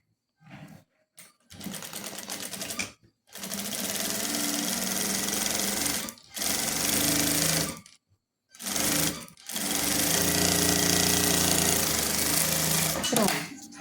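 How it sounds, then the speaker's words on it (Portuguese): An overlock serger sewing around the edge of a fabric crib headboard, giving loud, close mechanical chattering in several bursts separated by short pauses. "Passei a overlock, ó, em toda a volta."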